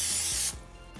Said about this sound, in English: just give it a spray with some cooking spray